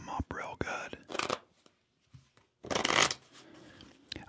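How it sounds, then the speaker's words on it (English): A deck of playing cards being shuffled again and again in a quiet setting, with crisp riffling bursts separated by soft handling sounds and pauses, close up and gentle. "Let me just take a couple minutes here and shuffle them up really good."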